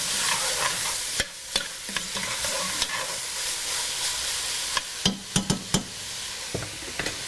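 Onions, carrots and celery stirred in a hot pan over a high flame, with a steady sizzling hiss broken by sharp scraping and clacking spoon strokes against the pan.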